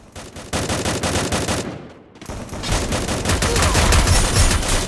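Gunfire in a mobile battle video game, loud rapid bursts of automatic fire, a brief pause, then a sustained dense fusillade continuing to the end, with no talking.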